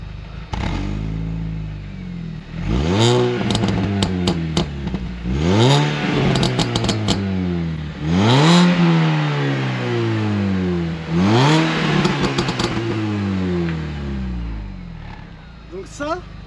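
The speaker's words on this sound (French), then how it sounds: "Je vais vous mettre quelques petits coups de gaz, vous allez me dire ce que vous en pensez." A 2005 Mini Cooper S R53 on its stock exhaust revved in several short blips, each rising sharply then falling back to idle, loud and close with a rough idle between.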